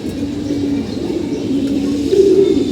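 A male army pigeon coos close by, a low steady throaty cooing that runs through the whole stretch with a slight rise near the end.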